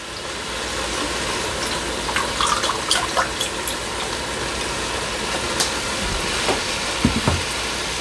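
Vegetable broth poured into a Ninja Foodi pot over cauliflower, a soft running trickle with small splashes and clinks over a steady background hum.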